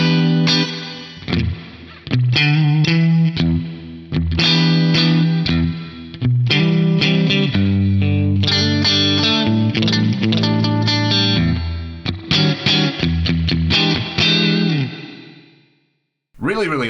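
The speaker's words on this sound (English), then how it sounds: "A medium spring reverb. This is at totally stock settings in front of the amp for that kind of classic spring reverb drip" Electric guitar through an Axe-Fx III set to a stock medium spring reverb ahead of the amp, playing chords and riffs with a splashy, dripping reverb tail trailing each note over roughly sixteen seconds.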